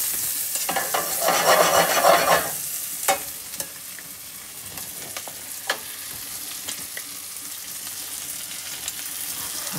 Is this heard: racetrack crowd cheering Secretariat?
no